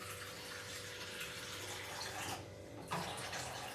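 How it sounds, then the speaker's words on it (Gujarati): Water pouring straight from a water filter into a container holding spice powder for pani puri, a soft, steady splashing stream, fairly quiet and alone. "હવે આપણે એમાં નાખશું પાણી ડાયરેક્ટ ફિલ્ટરમાંથી"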